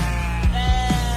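Sheep bleating as a sound effect in a sports talk radio jingle, three short wavering bleats in quick succession over a steady musical bed.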